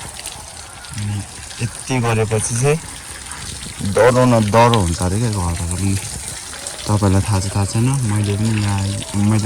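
Water from a motor pump sprays onto the walls of a house, a continuous hissing gush running underneath a person talking for most of the stretch.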